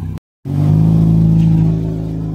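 A car being driven and accelerating while being moved carefully during a house shift: a steady, loud engine drone rising into a sustained rev after a brief dropout, held close for about two seconds.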